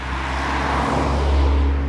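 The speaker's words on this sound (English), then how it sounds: "And yet all we've got so far is cars." Cars passing on a road beside the Swanage Railway, a steady, loud rush of engine and tyre noise with a low rumble, close by and continuous.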